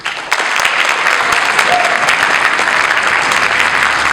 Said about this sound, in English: Let's give one more round of applause for all the groups.